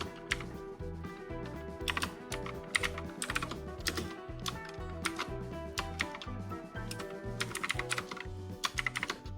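Steady typing on a computer keyboard while a SQL version query is entered into the Postgres query tool, dense clicking keystrokes with brief pauses and louder bursts, close and continuous under a faint hum, no talking.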